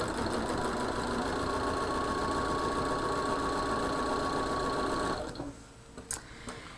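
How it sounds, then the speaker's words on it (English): A sewing machine runs steadily along the short end of fabric for a combo cushion, a close, even whirring hum with rapid needle pulses, then cuts off, followed by a couple of small clicks. "I'm sewing on the short end"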